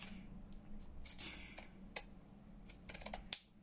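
Scissors snip through burlap fabric in a quick run of crisp, close cuts, ending in one sharper snap, all quiet and with no voices.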